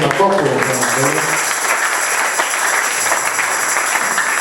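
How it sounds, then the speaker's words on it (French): A church congregation at a Christmas service applauds for the Lord, a dense, loud wash of clapping that rises right after a brief spoken voice and carries on unbroken. "Applaudissez pour le Seigneur"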